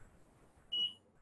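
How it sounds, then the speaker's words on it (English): A Blanketrol III hyperthermia unit gives one short, thin electronic alarm beep over a faint background hum in a quiet room. "There is also a silence alarm if you can't figure out what is happening"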